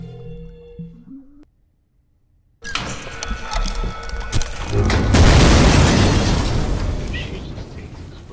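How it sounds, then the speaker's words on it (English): Explosion from an overloaded machine in a video game, a sudden loud boom after a moment of silence, followed by a long rumbling, crackling blast that swells and slowly fades. "Machine just takes explosions after explosions."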